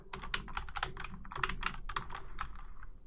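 Quick, irregular keystrokes on a computer keyboard, close and clear, typing a short entry into a search box on a PC, with a louder final tap like the Enter key.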